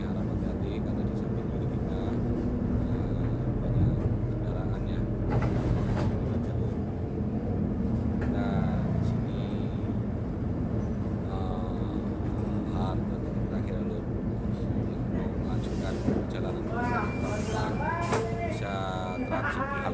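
A Transjakarta bus travels along the elevated busway of corridor 13 in Jakarta. A steady engine and road rumble runs throughout with someone talking over it.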